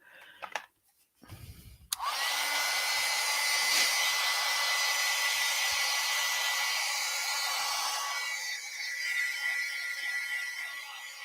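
A hair dryer blows on wet acrylic paint, starting with a sharp click and then running as a loud, steady whoosh for about nine seconds at close range. It eases slightly near the end, and no one speaks over it.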